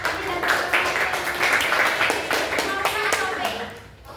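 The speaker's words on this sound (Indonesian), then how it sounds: "Tepuk tangan dulu buat" A university classroom breaks into lively applause for a group presentation in a citizenship course. Many hands clap together in a dense, close, steady patter for several seconds before it tapers off, with some voices mixed in.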